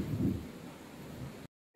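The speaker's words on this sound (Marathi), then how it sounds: "मुंबईत आलाय जबरदस्त पाऊस" Heavy monsoon rain in Mumbai makes a low, rumbling wash of steady downpour, fairly faint, that cuts off abruptly near the end.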